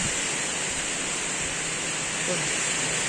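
Heavy rain pours down at a rural home while strong wind blows, a dense, steady roar of hiss that stays constant and loud throughout, with no voices heard.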